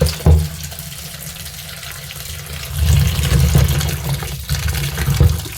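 Ivy gourds being washed under a running kitchen tap, a steady splashing stream of water that swells louder partway through, with no talking.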